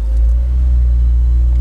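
A Honda Accord Euro R CL7, a JDM car with a Spoon restomod, pulls gently forward with a manual clutch, giving a loud, close, steady low engine rumble that holds even throughout.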